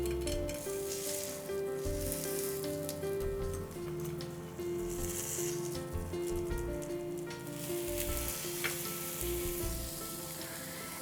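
Potatoes sizzle and fry on a non-stick pan, a steady close crackling hiss that runs throughout with faint stirring and tapping noises.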